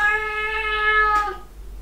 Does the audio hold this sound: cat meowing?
yes